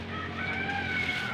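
A rooster crows once, faint and distant, over a low background hum.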